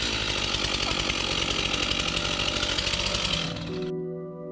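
A chainsaw runs flat out during storm damage repairs at an old house in southern France, a loud, buzzing, rattling engine drone that holds steady and then suddenly cuts off, leaving a brief fading hum.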